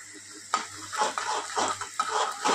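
Rice and egg fry in a pan, a soft sizzle broken by sharp scraping and clinking as a spatula stirs and knocks against the metal in irregular strokes.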